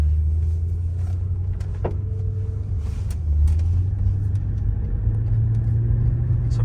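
A Mercedes W210 with a gutted AMG muffler drives along, its exhaust a low, steady rumble that swells briefly as the throttle is pressed, heard from inside the car with no talking.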